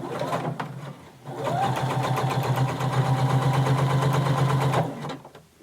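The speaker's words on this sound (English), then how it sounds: "you're going to sew all the way around" A sewing machine stitches through two layers of denim, running in a fast, even whir for about three seconds after a brief start, with short quieter handling sounds before and after. There is no speech.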